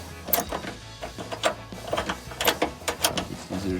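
Ratchet clicking as a headlight bolt is unscrewed on a 2003-2005 RAM 2500 pickup, with bursts of sharp mechanical ticks in an uneven rhythm, close and moderately loud.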